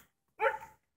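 A puppy gives a single close, loud bark-yip burst, with no other sound around it.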